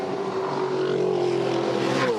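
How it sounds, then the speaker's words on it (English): A Mercedes-Benz AMG V8 Supercar coasting through a turn while misfiring and not running on all eight cylinders gives a continuous rough, uneven engine drone that holds a fairly loud level throughout. "it's off song massively, so it's not running on all 8 cylinders there at the moment"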